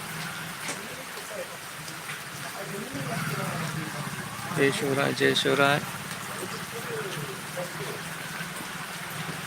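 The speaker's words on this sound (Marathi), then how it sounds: "पाऊस पहा येत आहे पाऊस" Rain falls in a steady hiss beneath voices that talk close by, with a brief louder patch midway.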